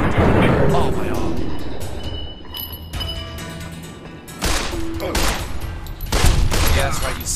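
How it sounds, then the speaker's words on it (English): Rapid gunfire bursts in the video game Fallout: New Vegas, loud and dense over a game soundtrack and effects, with someone talking over the shooting. "you stop when someone's shooting you"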